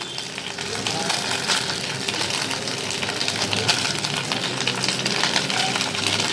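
Rice sizzling and crackling steadily in hot ghee in a pan, tossed with occasional scraping stirs, a continuous close, fairly loud fry throughout, with no talk over it.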